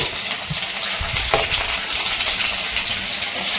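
Chopped onion and tomato fry in a pan for a green chicken curry, giving a loud, steady, close sizzle with a brief stirring scrape partway through. No one speaks.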